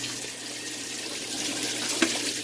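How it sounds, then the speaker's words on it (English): Water pours steadily into the tub of a Kenmore top-load washing machine, a continuous hiss-like rush of inflow that holds at an even level with one brief splash near the end and no talking. "You can see water comes in like it's supposed to."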